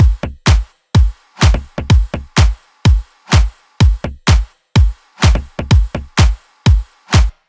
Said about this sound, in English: The drums in the drop sound like this.